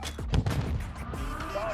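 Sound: Bryson 890 shotgun fire in the video game Modern Warfare 2

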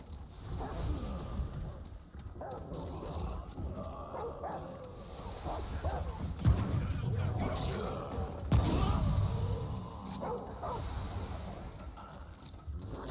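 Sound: dog barking in the video game Remnant: From the Ashes

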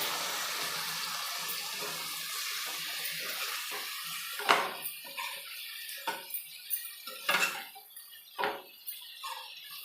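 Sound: water poured into cauliflower dry roast pan

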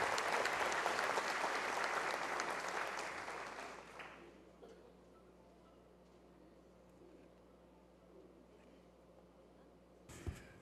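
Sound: audience applause

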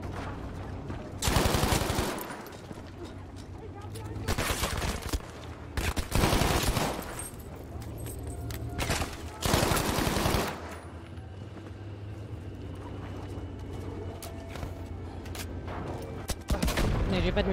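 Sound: gunfire in the video game Battlefield V

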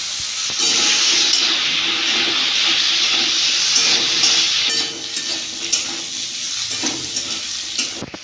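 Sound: potatoes frying in mustard oil

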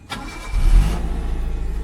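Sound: car engine starting

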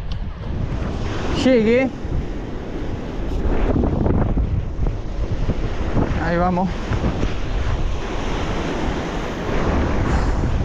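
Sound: strong northeast wind at the sea shore

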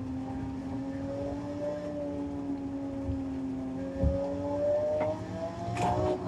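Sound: car engine revving in a racing video game

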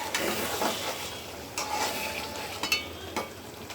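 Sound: stirring dal in a cooking pot

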